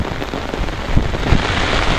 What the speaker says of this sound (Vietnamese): Tình hình là mưa gió rất to nha các bạn